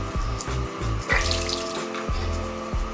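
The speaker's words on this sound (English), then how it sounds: "So I'm just gonna run it under the water." A faucet runs steadily over a beauty blender sponge in a sink, close and continuous, with the flow thudding and changing as the sponge is squeezed under it.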